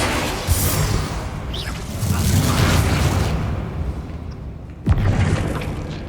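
Booming spell blasts go off in the Hogwarts Legacy video game, with loud explosive bursts and whooshes one after another and a sharp crack near the end.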